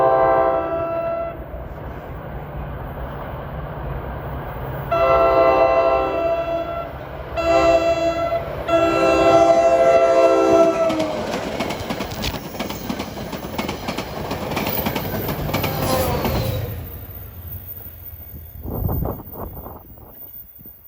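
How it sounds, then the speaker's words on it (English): NJ Transit train 1120 from Suffern to Hoboken on the Main Line, passing in warm sunshine: a series of loud horn blasts in separate bursts over a growing rumble of passing cars, with rhythmic wheel clatter fading at the end. "this is train 1120 from Suffern to Hoboken via the main line"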